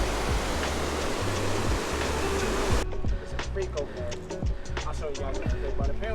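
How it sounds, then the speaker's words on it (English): Steady rushing mountain water on Mount Rainier fills the scene, a broad continuous roar that drops away midway, leaving a quieter flow with scattered clicks and rattles. "The sound of the water."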